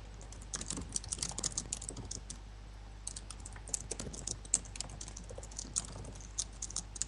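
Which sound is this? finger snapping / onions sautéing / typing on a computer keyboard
typing on a computer keyboard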